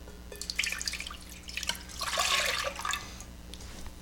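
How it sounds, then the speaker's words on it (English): Whole milk pouring into a medium saucepan, a faint splashing liquid stream with small drips and a brief fuller gush in the middle, heard alone at close range. "in a medium saucepan, you're going to add 1 pint of whole milk"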